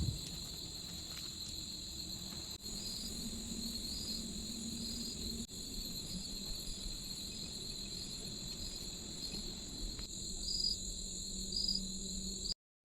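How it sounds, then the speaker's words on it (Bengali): Crickets in Chilapata Forest in the Dooars chirp without pause at night, a steady high shrill drone with layered pulsing calls that swell near the end, all alone with no voices. "ঝিঝি পোকা অবিরাম ডেকে চলেছে"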